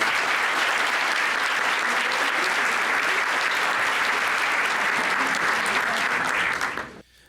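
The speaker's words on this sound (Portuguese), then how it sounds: "para pedir um aplauso de todos vocês aos organizadores a quem tornou isso possível" An audience at a Brazilian panel talk on artificial intelligence gives organizers a loud, sustained round of applause, dense steady clapping that holds for several seconds before cutting off abruptly.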